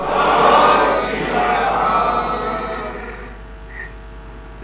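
A congregation at a Sikh seminar honouring Guru Nanak Dev Ji's 550th Gurpurab shouts a jaikara response, a loud collective crowd roar that swells at once and then fades gradually.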